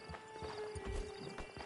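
A horse's hooves clip-clop in a steady, faint rhythm in a video game, with a low ambient hum and tonal drone running underneath.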